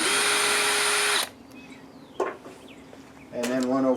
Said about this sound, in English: So this is just a T30 Torx bit, and there's normally 10 screws along here.